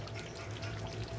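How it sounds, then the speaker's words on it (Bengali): Chunks of mutton tipped into a pressure cooker give a brief, faint wet sliding pour, a soft slosh of meat and juices lasting just over a second. "এবার আমি প্রেসার কুকারে দিয়ে দেব"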